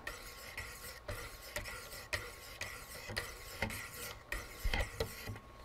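Steady rasping, scratchy strokes of a knife blade being sharpened on a Wicked Edge guided sharpener, repeating about every half second in a close, even rhythm with no talking.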